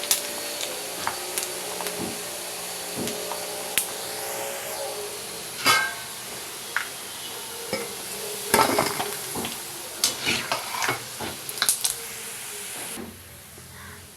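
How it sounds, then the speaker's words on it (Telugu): Chicken pieces deep frying in hot oil for chicken pickle, a low steady sizzle with occasional sharper clinks and stirring knocks from the pan, fairly quiet and without talk. "దీన్ని కూడా డీప్ ఫ్రై చేసుకుందాం."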